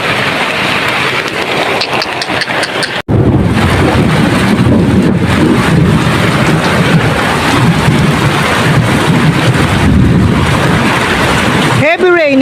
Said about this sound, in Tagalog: heavy rain, malakas na ulan